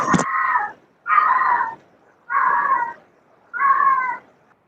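A cat meows four times in a steady series, each call drawn out and fairly loud and close, with short pauses between them.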